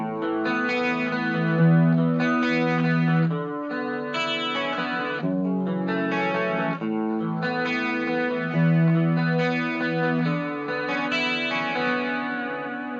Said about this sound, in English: that chorus kind of clean sound, kind of like a Roland Jazz JC120, but using a pedal